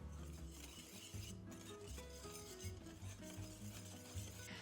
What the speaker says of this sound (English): Got my whisk, and we'll just whisk that together.